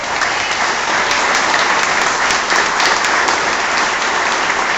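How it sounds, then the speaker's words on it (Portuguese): A church congregation applauds during a Portuguese-language sermon, dense sustained clapping from a crowd filling the room at steady loudness for several seconds. "Vamos aplaudir Jesus."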